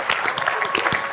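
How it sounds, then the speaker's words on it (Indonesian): Audience applause at a television show comes in a short burst of dense clapping, close and continuous for about a second. "Jadi tepuk tangan untuk keempatnya."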